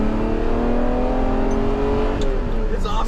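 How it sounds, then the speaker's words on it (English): A Ferrari Testarossa V12 engine revs hard and climbs steadily in pitch, loud and close, like a high-performance car accelerating through a gear. "listen to that V12."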